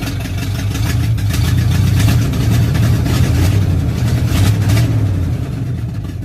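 A Ford pickup truck's engine runs close by, a loud steady idle with a deep low rumble and a few mild rises in revs, no voices.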